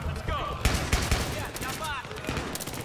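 Rapid bursts of suppressing gunfire crack out in Battlefield 3, dense overlapping shots and clattering automatic fire filling the whole stretch.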